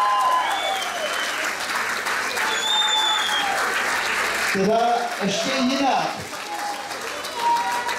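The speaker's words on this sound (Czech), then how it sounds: "Možná, že chtějí potlesk" Applause at a midnight surprise during a ball, a loud, dense crowd clapping sustained across the room, with a voice speaking over it near the end as it fades slightly.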